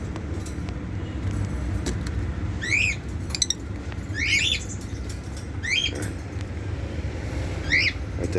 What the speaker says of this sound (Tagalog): papakita ko sa inyo kung ano na itsura ng iba kong ibon dito